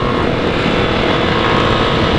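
A Honda CB 500 motorcycle passes, heard as a loud, steady roar of engine and wind noise that holds constant throughout the short stretch.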